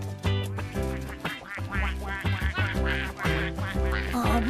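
Cartoon ducks on a farm quack loudly and repeatedly in a busy, overlapping chorus, close up, with a bright tune playing underneath.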